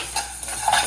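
Milk payasam boiling in a pot while being stirred, with a spoon scraping and bubbles simmering through a brief, close sequence of clinks and bubbling.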